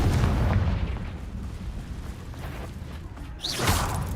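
A Confringo spell explodes in Hogwarts Legacy with a deep, rumbling blast that decays over a few seconds, then a second burst of noise near the end.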